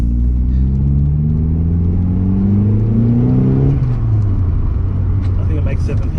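A turbocharged Mazda 323 Familia with a B6T engine accelerates hard in second gear, its engine note rising steadily up close before dropping at a shift, then continuing to drone loudly.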